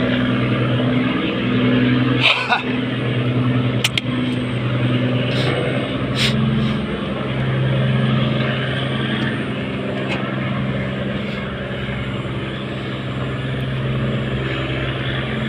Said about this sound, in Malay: Ke sini ada satu buah kapal ikan masuk